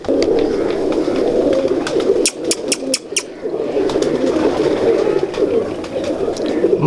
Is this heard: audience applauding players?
no